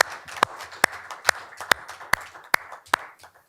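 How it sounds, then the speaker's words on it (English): Steady, evenly spaced hand claps ring out at a school board of education meeting, about eight sharp claps in slow rhythm, fairly close and clear with little else around them. "How about a round of applause for the Castle Rock region?"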